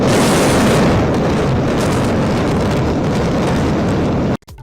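The controlled demolition of the Noida twin towers sends out a loud, sustained roaring rumble of collapse that fills everything for over four seconds, then cuts off abruptly.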